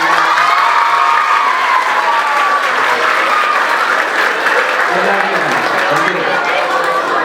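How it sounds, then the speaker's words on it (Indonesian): A crowd at an Isra Mi'raj religious gathering breaks into loud, sustained applause with some cheering, and voices and children shouting mix in over the clapping. "tepuk tangan."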